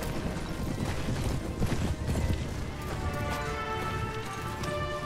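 A horse gallops in the Mount and Blade: Warband video game, with rapid hoofbeats in a continuous rhythm amid battle noise, fairly close and steady throughout.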